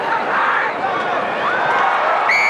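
A rugby stadium crowd at a Super 14 match between the Lions and Hurricanes lets out a sustained roar after a Hurricanes try, loud cheering and shouting that rises and swells, with a commentator talking over it.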